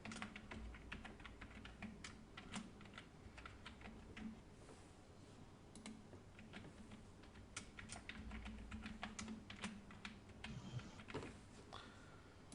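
A computer keyboard typing a password, many quick, faint clicks in an uneven, steady stream over a quiet background hum, with no talk.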